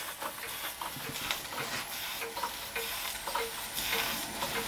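A Weeden No.900 model steam engine runs slowly on steam, a soft hissing and sizzling with faint, irregular puffs and ticks close by.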